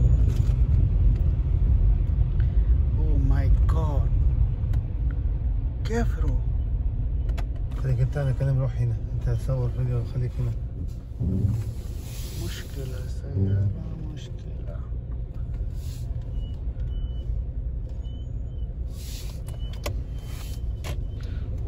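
Heavy road traffic stalled in a jam after a day of rain in Saudi Arabia, with hundreds of trailer trucks blocking the road: a steady, close engine rumble runs throughout while someone talks over it.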